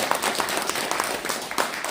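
Audience applause at a book concert for a Korean book talk, a steady wash of many hands clapping with a few sharper claps standing out, sustained throughout at moderate level.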